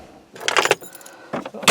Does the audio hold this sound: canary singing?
no